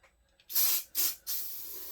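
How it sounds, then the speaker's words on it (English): WD-40 lubricant sprayed onto the pads of a McCulloch 1-85 chainsaw during a rebuild, in three close, loud hissing bursts, the last one held longer, after a quiet start. "So we're just gonna kind of WD-40 everybody."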